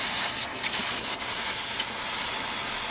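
A torch heating a Briggs and Stratton OHV Intek riding lawnmower carburetor gives a steady, loud, close roaring hiss that holds unbroken from start to finish, with no voices.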